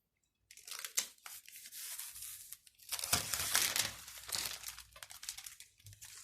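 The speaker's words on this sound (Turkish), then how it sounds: "sizin için kasanın jelatinlerini de açıyorum." Protective plastic film being peeled off the tempered glass side panel of a GAMECASE CrystaL RGB PC case with 180 mm fans, producing close, crackling crinkles and tearing rustles in uneven bursts after a moment of silence.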